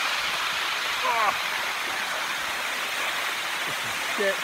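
A waterfall pours in a steady, dense rush close by during a hot summer day, with faint brief voices surfacing under the constant roar.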